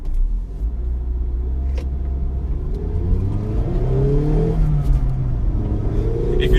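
A 2016 Mazda MX-5 GT with its 2-liter engine accelerating, a steady in-cabin drone whose pitch climbs through the gears, loud and continuous, rising again after a brief shift.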